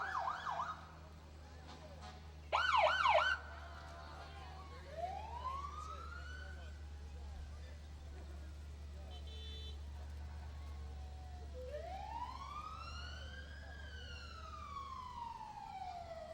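Fire department and ambulance sirens from a parade in Windom, Minnesota, a brief horn blast and repeated rising-falling wails sweeping across the clip over a steady low engine rumble, moderately distant.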